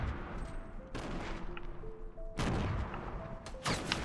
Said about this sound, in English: Stop shooting at me, I'm sorry.